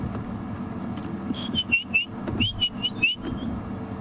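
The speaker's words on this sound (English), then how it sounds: "The white-browed scrub robins are calling their last." Several short, clear calls of white-browed scrub robins at sunset in a quick irregular series, mid-distance, over a steady background drone of cicadas and low rumble.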